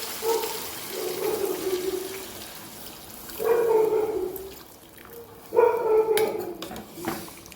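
Water pours into a pan of tempered chickpeas and potatoes in a few separate splashing bursts, close by and moderately loud, with quieter gaps between them and no talking.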